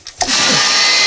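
An electric mixer whips sugar pie filling. It starts with a short bump, then holds a steady, loud, close whirring drone.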